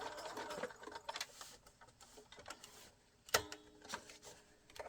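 Sewing machine stitching binding on a square-cornered art quilt, a short run of stitches at a corner and back; quiet mechanical whirring with ticking needle strokes and a sharper clack partway through, close and fairly soft.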